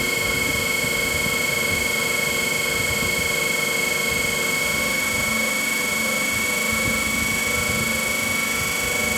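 DC machine running at a constant 1500 RPM in a lab experiment on its magnetizing characteristic, a steady loud mechanical hum with a high whine holding evenly throughout.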